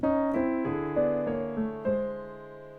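Jazz piano with both hands: a melody over a moving contrapuntal lower line, notes struck every half second or so and left ringing, close and unaccompanied.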